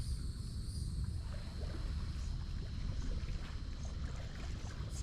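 Kayak paddling on Florida's Telegraph Creek: a constant low wash of water around the hull with gentle wind rush and a few faint higher chirps, close and even throughout, with no voices.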